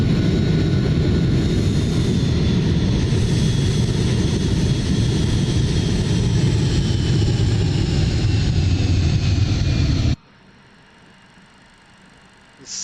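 Airliner engines in Microsoft Flight Simulator 2024 hold a steady, loud jet whine and rumble while a long plane taxis, then cut abruptly to a much quieter hum for the final seconds.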